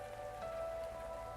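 Steady rain on surfaces as a background effect in a story reading, a faint continuous patter under a soft sustained tone, with no talking.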